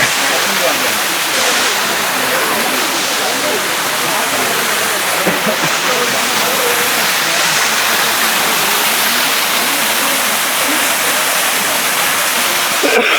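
A waterfall on a trekking trail roars as a dense, constant wash of water, loud and close for the whole stretch, with people's voices faintly mixed in.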